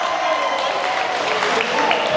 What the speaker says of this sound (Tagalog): Uy, palakpak ka man kay number 1.